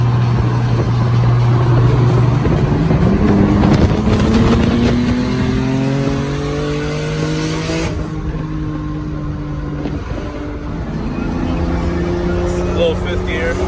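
A turbocharged S52-powered BMW E30 pulls hard on backroads, its engine note climbing steadily before dipping with a shift into fifth gear, then droning on at a lower, even pitch from inside the car.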